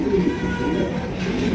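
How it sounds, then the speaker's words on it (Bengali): A Danish pigeon gives a low, throaty coo, close and fairly loud, with a soft rolling murmur running through the short stretch. "এত সুন্দর এক জোড়া ডেনিশ কবুতর"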